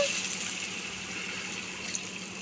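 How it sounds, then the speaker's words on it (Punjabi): Water pours into a cooking pot while veg pulao is being made, a soft, steady hiss and gush at low volume with no talk. "ਇਹਦੇ ਵਿੱਚ ਪਾਵਾਂਗੇ ਥੋੜਾ ਜਿਹਾ ਪਾਣੀ"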